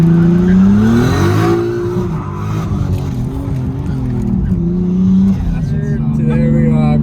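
Nissan Skyline R34 with a new Tubosmart wastegate and downpipe being boost tested at stock 14 psi, a loud engine roar with rising and falling revs and a speaking voice riding over it.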